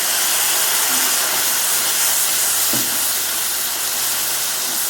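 Vinegar poured into a hot pan of onions and garlic while cooking duck adobo, giving a loud, steady steamy hiss throughout with a brief sharper burst partway through.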